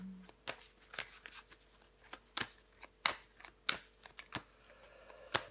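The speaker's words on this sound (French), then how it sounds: "Je vais recouvrir des cartes pour vous les balances." Tarot cards are handled and turned over one at a time in a reading, giving soft close flicks and slaps at an uneven pace, quiet and with no talk.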